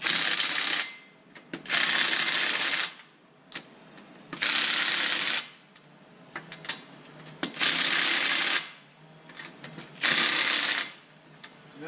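A pneumatic impact gun tightens car wheel lug nuts in a star pattern during a winter/summer tire change, loud rattling hammer bursts of about a second each repeating five times with short quiet pauses between.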